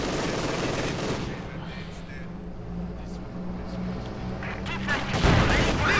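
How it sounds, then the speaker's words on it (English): Infantry small-arms fire crackles through a Company of Heroes 2 World War II real-time strategy match, with rattling bursts and a low rumble of battle sounds running steadily throughout. "Enemy infantry firing on me."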